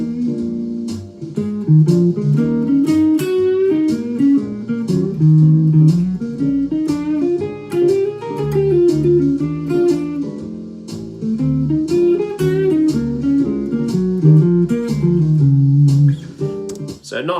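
Electric guitar soloing over a 12-bar blues, switching pentatonic scales with each chord: a run of plucked, bending single notes with short phrases and brief pauses, played alone.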